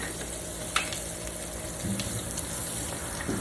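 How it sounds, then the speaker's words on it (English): Butter sizzles and burns in a frying pan, ready for potatoes and bacon: a steady, soft crackling hiss runs throughout, broken by a single light clink. "you see how butter burns so quick? It burns quick."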